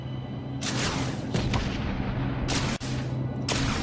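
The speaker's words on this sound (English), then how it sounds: "Just look around normally and you can use the rocket launcher there." In the video game Space Engineers, a rocket turret on a gunship fires rockets in loud, rushing bursts, roughly four launches a second or so apart, over a constant low mechanical hum.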